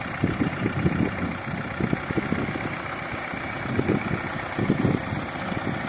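A YuMZ 8280 tractor pulls a 3.6 m seeder while sowing soybeans in a field. Its engine drones steadily at moderate distance, with recurring low rumbling bursts from the working machinery and no talk.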